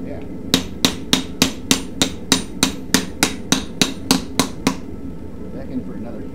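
Steady hammer blows strike hot forged san mai blade steel on the belly side, about fourteen sharp ringing impacts in an even rhythm, close and loud, then stopping, with a faint hum behind.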